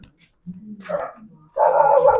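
A dog barks and yips close by in a narrow alley in two bursts, the second louder and longer, with no talking.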